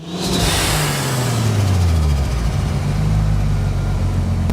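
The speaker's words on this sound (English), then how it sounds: "I'm driving around doing about 20 to 30 miles an hour on the way to the location" A car cruises at about 20 to 30 mph on the way to a drift lot, its mid-pitched engine droning steadily and close, with gear-like pitch sweeps and road rumble throughout, no voices.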